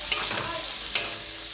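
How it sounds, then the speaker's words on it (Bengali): Chopped tomato with chilli and turmeric fries in a pan, a continuous close sizzle with two quick scraping stirs of the spoon, one early and one near the middle. "নাড়তে থাকবেন টমেটো কুচিটা দেওয়ার পর।"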